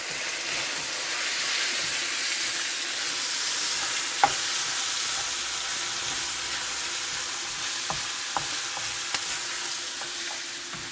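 A vegetable stew with chicken breast, seasoned with nutmeg and cinnamon, cooks in a pot with a constant bright hiss and sizzle, broken by a few faint clicks of utensils, steady and without voices.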